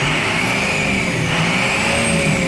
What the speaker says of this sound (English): Revs up really nice.